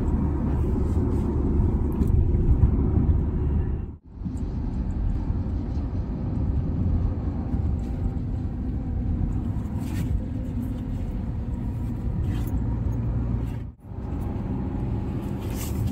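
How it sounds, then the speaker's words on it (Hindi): A car rolls slowly along a highway on the way to a wedding event, giving a steady low road rumble and engine drone throughout, with two brief dips where the noise nearly drops away. "हाईवे पर हल्लू हल्लू छल्ले छल्ले जा रही है हमारी गाड़ी धीमे धीमे"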